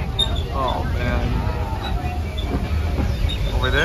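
A Disneyland railroad train runs past near a lake, with a steady rumbling, rolling rail noise and faint wheel squeal throughout while a person talks over it.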